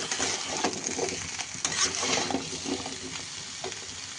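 Pumpkin, potato and green banana pieces with rock salt frying in a pan, giving a continuous close sizzle with light scraping and stirring clatter throughout, no talking.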